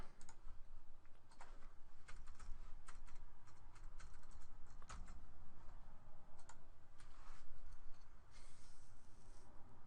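Username and password typed on a computer keyboard, a steady run of quick, close key clicks across the whole stretch with brief pauses, over a low background hum.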